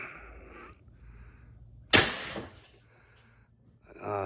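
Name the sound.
Pistelle x68 air gun shot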